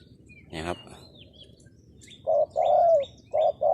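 A trained decoy bird calls close by: a brief rattling burst, then clear, sustained cooing notes in a short series, with faint higher chirps from other birds in the background.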